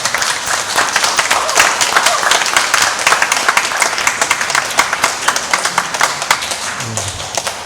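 A church congregation applauds during Sunday worship announcements, a steady mass of clapping from many hands filling the room for several seconds, with a low murmur underneath.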